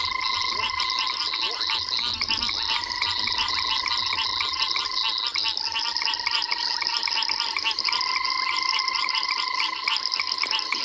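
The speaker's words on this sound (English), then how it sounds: "it's definitely these banded rubber frogs that are just drowning everything else out with that" Banded rubber frogs call at night in South Africa in a dense, continuous chorus of rapid pulsed trills and croaks, loud and unbroken throughout, layered thickly enough to drown out other frogs.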